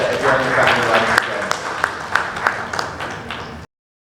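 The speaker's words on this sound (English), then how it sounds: "can we have a loud round of applause for everyone in the family once again?" An audience at a disability inclusion panel event applauds steadily, with a dense wash of clapping and a few sharp claps standing out before it cuts off abruptly.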